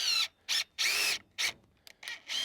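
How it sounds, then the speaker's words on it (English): A power drill drives screws through a scrap board during barndominium construction, giving about six separate whirring bursts with a rising whine and short pauses between them. "put some screws through it."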